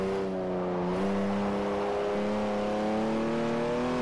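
A Toyota Supra's engine in the Forza Motorsport 4 racing game drones steadily at high revs, its pitch climbing slowly as it pulls, loud and continuous with no talk over it.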